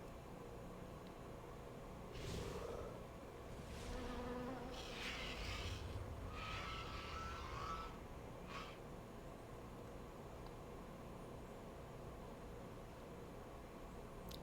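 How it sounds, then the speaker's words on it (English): Insect buzzing from the Swarm of Flies ability in a World of Warcraft pet battle, a steady low hum with several louder buzzy bursts between two and nine seconds, no talking. "I guess I'll just reapply Swarm of Flies."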